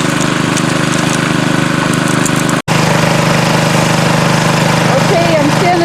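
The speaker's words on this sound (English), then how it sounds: "I'm standing right by the motor and I'm watching Chuck" Suction dredge motor running on dry land during gold prospecting, a loud, steady engine drone heard close up, broken once by a brief dropout mid-clip, with voices faintly beneath.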